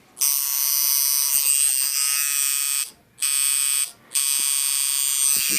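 A Unimax short-stroke liner tattoo machine runs with a steady, high electric buzz, cutting out briefly twice before resuming, with no voices.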